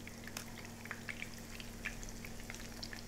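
Salmon fries in a frying pan holding one to two centimetres of hot salad oil: faint, scattered pops and crackles over a low steady hum, quiet throughout.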